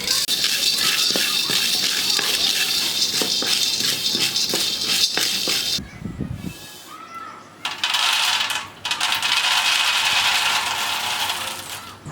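Peanuts dry-roast in a pan, rattling and clattering continuously as they are stirred and tossed, with bright scraping jingles close by, a brief pause partway through, then more rattling.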